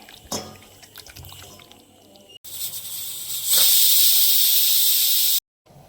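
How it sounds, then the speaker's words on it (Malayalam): A pot of green gram (cherupayar) curry boils steadily on the stove, giving a loud, continuous hiss and bubbling that builds and then cuts off abruptly. "നമ്മുടെ ചെറുപയർ കറി ഓൾറെഡി തിളയ്ക്കാൻ തുടങ്ങിയിട്ടുണ്ട്"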